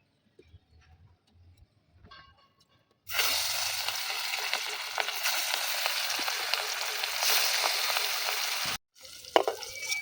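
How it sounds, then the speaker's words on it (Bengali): Thick-cut pieces of rohu fish rubbed with salt and turmeric hiss and sizzle loudly in hot oil in a kadai. The close, steady frying runs for several seconds and then cuts off, with faint clinks before and after. "সব মাছগুলো আমি লাল করে ভেজে নিয়েছি"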